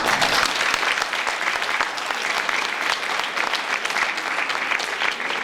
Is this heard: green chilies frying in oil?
no